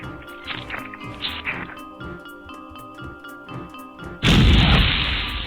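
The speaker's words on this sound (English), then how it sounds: "Nothing like a good explosion to brighten up your day." A loud, sudden explosion bursts in a Space Quest 2 remake video game, a broad roaring blast that cuts in after a stretch of rhythmic game music and slowly decays.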